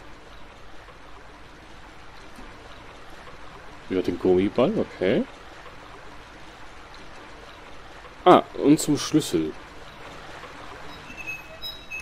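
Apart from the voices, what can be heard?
water flowing in, from video game Silent Hill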